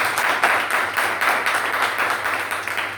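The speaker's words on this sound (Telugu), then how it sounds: "గట్టిగా చప్పట్లు కొట్టి దేవుని మహిమపరచు." A church congregation claps loudly and steadily together in worship, a dense, continuous wave of applause filling the room with no voices over it.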